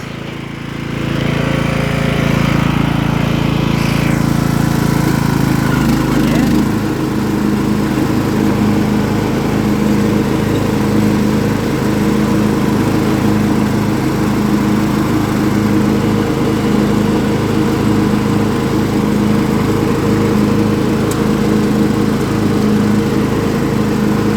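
A Craftsman LT1000 lawn tractor runs with its mower deck engaged, a loud, steady engine drone that shifts pitch after a few seconds as the blades spin up, then holds a constant roar.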